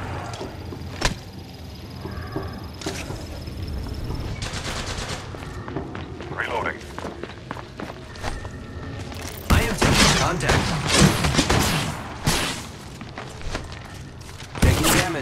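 Repeated gunfire bursts from Apex Legends Mobile, with sharp isolated shots early, then dense rapid automatic fire crowding the second half, loud and close, with faint game voice lines in places.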